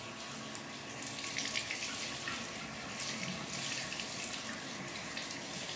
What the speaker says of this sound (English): Just place your hands under the faucet to turn on the water.